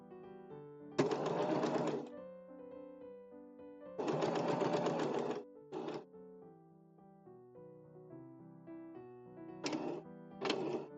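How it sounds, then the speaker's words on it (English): Sewing machine back stitching on a Charm Lizabeth raglan top, sleeves and cuffs: three quick bursts of rapid needle chatter, two of them about a second long, with softer short runs later, over quiet background music. "Back stitching."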